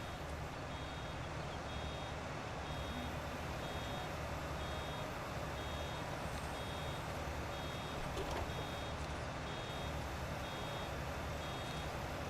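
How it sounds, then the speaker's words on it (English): Truck reversing beeps in the Farming Simulator 19 video game while unloading, a steady evenly spaced series of high beeps repeating throughout over a constant engine rumble. "Okay, the beeping can stop now, it's unloaded"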